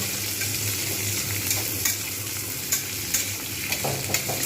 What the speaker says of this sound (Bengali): এটা একটু ভালো করে লালচে করে আমি ভেজে নেব।